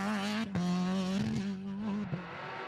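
A BMW rally car on a stage at the Killarney Rally of the Lakes roars close by with a strong, steady engine note that shifts pitch briefly as it passes.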